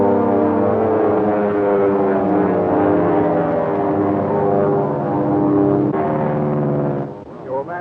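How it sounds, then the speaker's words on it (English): A 1930s propeller airplane drones steadily in flight, its loud engine hum holding a strong tonal pitch that wavers slightly before fading at the end; a voice speaks beneath it. "Blackwood can certainly handle a plane."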